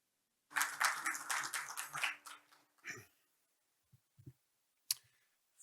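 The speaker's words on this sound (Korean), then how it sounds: "네, 참사관님을 뜨거운 박수로 환영해 주시기 바랍니다." A symposium opening ceremony audience gives a short burst of applause welcoming a Canadian embassy counsellor to the podium; dense clapping lasts under two seconds, then a few scattered thumps and knocks follow.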